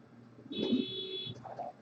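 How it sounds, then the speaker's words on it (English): A car alarm goes off somewhere outdoors, a single steady high electronic tone that holds for under a second, moderately loud over a low background murmur. "Seems to be a car alarm going off somewhere out here."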